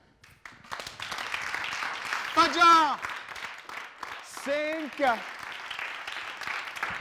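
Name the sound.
audience applause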